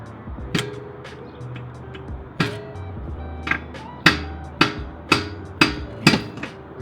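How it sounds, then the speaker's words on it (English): A hammer strikes hard on a CV axle to drive it out of a car's wheel hub, sharp metallic blows, a few spaced apart then a quicker run of six or so ringing hits, close and loud. "go ahead and hammer out the axle from your hub"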